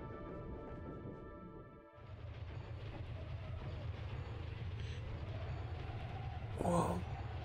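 Train moving on rails in the video game Pinstripe: a continuous low rumbling roll with rattling undertones, preceded by a brief tonal hum that cuts off sharply, and a short clanking burst near the end.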